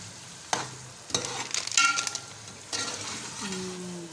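Mutton pieces frying in korma masala, with a few sharp stirring and scraping strokes over a steady close sizzle and a brief clatter of a utensil against the pot.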